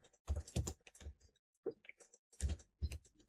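Keys clack on a computer keyboard in a quiet room, two quick bursts of close typing separated by a short pause.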